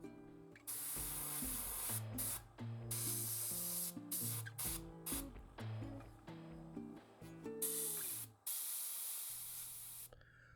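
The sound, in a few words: airbrush spraying paint on a model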